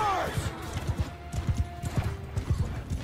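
Horse galloping in Mount and Blade II: Bannerlord, a rapid run of hoofbeats at close range with a brief whinny at the start and voices underneath.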